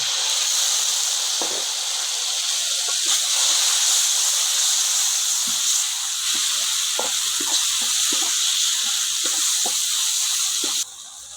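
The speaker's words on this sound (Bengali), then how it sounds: "আমার মশলা কষা হয়ে গেছে এখন টমেটো দিয়ে অল্প কষিয়ে নিই" Spice paste and tomato sautéing in a pan for a Bengali rui fish kaliya, a steady close sizzle and hiss throughout with soft stirring scrapes breaking through at intervals.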